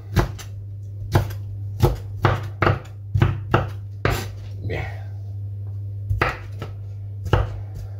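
A knife chopping vegetables on a cutting board, a dozen or so crisp, close chops in an uneven rhythm with short pauses, over a steady low hum.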